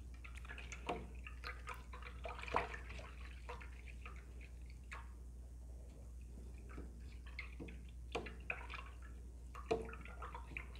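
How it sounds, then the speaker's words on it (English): A paintbrush is rinsed in a water cup during an acrylic rose painting, giving soft, scattered splashes and drips over a steady low hum, close but faint. "So, I think I'm going to rinse my brush out"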